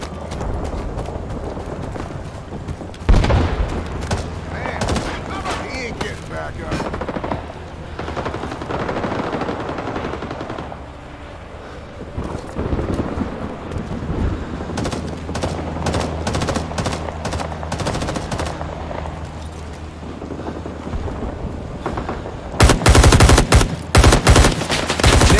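Rising Storm Vietnam battle gunfire: repeated automatic bursts and single loud shots, dense and close, with rapid sharp cracks clustering near the end.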